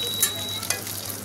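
Fish fries in hot oil with a steady, close crackling sizzle, marked by a couple of sharper spits and pops.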